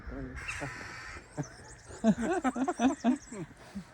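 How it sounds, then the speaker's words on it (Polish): Magpies chatter from a lakeshore, a run of harsh, rattling calls that build into a loud, rapid burst near the end, with a person talking over the start. "No sroki, no wiadomo."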